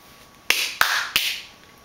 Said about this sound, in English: He clapped his hands 3 times